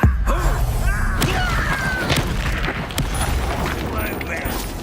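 The Confringo blasting spell in Hogwarts Legacy, a loud booming explosion with crackling debris that bursts in at the start under a shouted spell cast and battle noise, followed by further impacts and whooshes.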